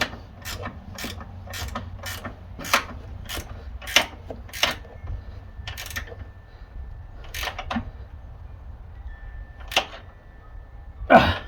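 A wrench is tightened against the frame of a Yard Machine snowblower: a string of sharp, close metallic clicks spaced irregularly over several seconds, with quiet pauses between.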